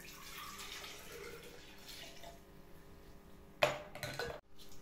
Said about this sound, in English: After the rice milk is ready, pour it into a bottle.